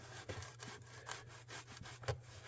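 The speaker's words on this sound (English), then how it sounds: "So the first thing we're going to do is get the fretboard loosened up here." A guitar fretboard on a Hondo guitar being worked loose with a thinned-down palette knife scraper, a quiet series of rough, rhythmic scraping strokes against wood, close and faint with no talking.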